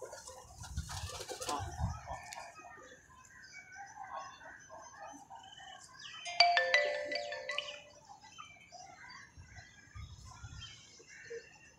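Pigeons offered for sale give low, soft coos in a few short bursts near the start and again toward the end, with rustling and brighter chirps between them.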